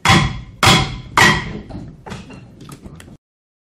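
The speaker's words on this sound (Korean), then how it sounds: "의사봉을 토르가 적을 때려잡듯이 친 후에 휙 던져버리고 나갑니다." A gavel slammed hard three times at a parliamentary committee session, loud ringing knocks like a smith's hammer, followed by lighter clattering thuds as it is thrown down, close and clear.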